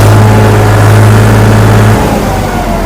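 A loud, heavy 50 hp Digitrac PP43i tractor engine revs steadily at a high pitch, around 2200 RPM, then drops slightly in tone and settles near the end.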